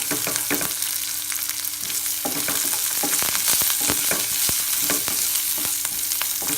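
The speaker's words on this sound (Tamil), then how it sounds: "ஒரு சின்ன வெங்காயம், கருவேப்பிலையும் ஆட் பண்ணிக்கிறோம். கொஞ்சமாக பெருங்காயத்தூள், இது எல்லாத்தையும் நல்லா ஃப்ரை பண்ணிவிட்டு" Shallots, curry leaves and asafoetida frying in a pan for a lentil kuzhambu, a loud close crackling sizzle with sharp spatula scrapes and knocks throughout, and no voices.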